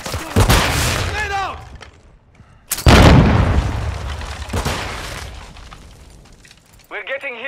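Grenade explosion in Call of Duty: Modern Warfare II, a loud booming blast with a crackling tail among other sharp impacts. Short bursts of radio-style voices appear before and after it.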